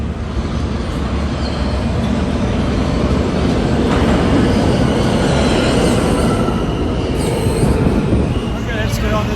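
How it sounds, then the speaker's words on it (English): A New York subway train pulls into the station with a loud, steady rumble and clatter of wheels, faint squeals rising near the end, while someone speaks briefly over the din. "Alright, so let's see whenever our train gets in. I can see it coming now."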